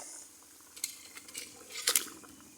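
Fried fish going into a simmering curry of aubergine and potato, followed by a few light clinks and scrapes of a spoon stirring in the pot, soft and close over a quiet bubbling background.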